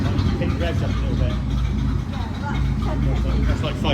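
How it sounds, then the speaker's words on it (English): A Chrysler Speedster engine revs up steadily and loudly with a continuous low rumble throughout, while people talk over it. "Pick the revs up a little bit."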